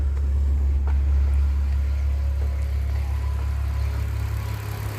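A VW Golf Mk2 fitted with an R32 VR6 engine runs through its first heat cycle, a steady, deep, close idle hum that holds evenly without talking.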